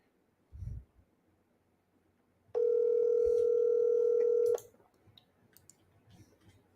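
A phone call placed from a CRM dialer on a computer: a mouse click, then a steady two-second tone from the line, with faint clicks before and after.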